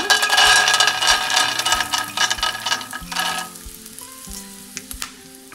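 Cinnamon, cloves and peanuts frying in hot oil for a Nellore-style stuffed brinjal curry, a loud, close sizzle that gradually fades while occasional stirring scrapes and clinks come through.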